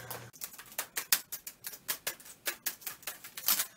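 Typing on a keyboard: a quick run of distinct keystroke clicks in an uneven but steady rhythm, close and fairly loud, with no talking.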